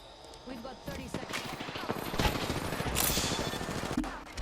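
Rapid gunfire from an Apex Legends match crackles in dense bursts that build toward the end, mixed with game effects and excited voices talking over the action.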